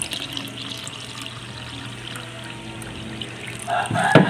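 Water pours into a container for mule ducks, a Pekin and Muscovy crossbreed, as a steady trickling splash that grows louder and fuller near the end.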